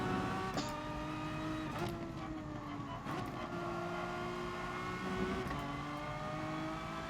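A car engine in the racing game Gran Turismo Sport drones steadily, rising in pitch through each gear and dropping sharply at several shifts, loud and continuous throughout.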